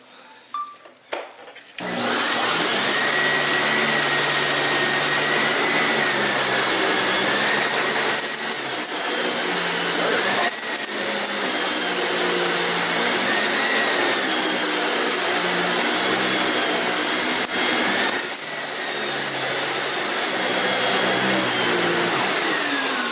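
A vintage late-1980s or early-1990s Sears Kenmore canister vacuum cleaner switches on after a few clicks and runs with a steady loud whine and hum, its pitch shifting slightly as it moves.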